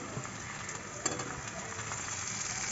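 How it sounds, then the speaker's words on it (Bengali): Tomatoes fry in a pan for chirer polao, giving a soft, even sizzle with faint scraping as they are stirred, low and close with one small knock. "টমেটোটা দিয়ে আর একটু নাড়াচাড়া করবো।"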